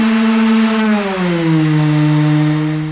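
A loud portable sander motor drones, then its pitch sags noticeably as the sander bogs down under excessive downward pressure, staying lower and strained.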